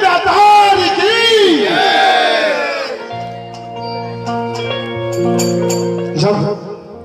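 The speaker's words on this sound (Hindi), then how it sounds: "एक बार जोरदार जयकार और ताली बजा कर" A crowd whooping and cheering at a live Shyam Baba bhajan event, loud rising cries at first, then fading as sustained harmonium-like musical tones take over.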